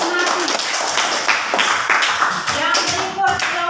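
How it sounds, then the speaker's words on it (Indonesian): Classroom students clap their hands in a short burst of applause, the claps irregular and close, with voices talking over them. "Ya, tepuk tangan untuk Nati"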